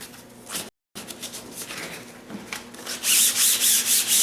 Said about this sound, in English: as soon as this sanding is finished